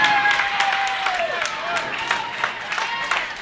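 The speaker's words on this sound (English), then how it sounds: "you weren't kidding talking about the crowd getting fired up too, along with the players" A crowd at a college bowling match cheers and claps steadily at an NCAA invitational, close and sustained, with a voice calling out over the noise.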